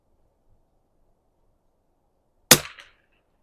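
A single sharp crack from a Savage 19 NRA rifle at an outdoor range rings out after a long stretch of near silence, then decays quickly with a brief tail.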